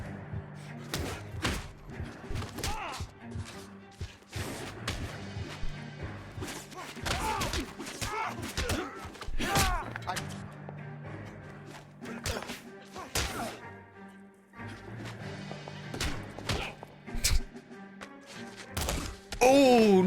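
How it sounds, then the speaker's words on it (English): Heavy fistfight blows in L.A. Noire, including a punch to the groin, land as repeated dull thuds and thwacks amid game sound and scuffling, with a voice talking over parts of the brawl. "nut punch"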